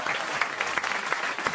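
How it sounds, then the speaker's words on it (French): Applause right after a pun on a French radio comedy panel, with irregular claps and a few louder slaps over a steady patter, coming across as a small burst of clapping with no voices. "Il s'est auto-applaudi après son jeu de mots."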